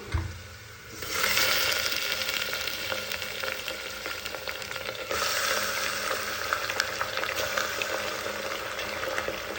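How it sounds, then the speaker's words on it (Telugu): Mutton frying with roasted onions in a pan, a dense, loud sizzling hiss that swells when the meat goes in and again midway, with faint scraping of a stirring spoon and no talk. "మటన్ వేసుకొని ఈ విధంగా రోస్ట్ చేసుకోవాలి"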